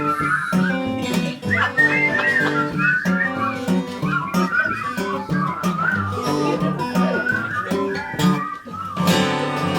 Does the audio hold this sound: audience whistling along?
yes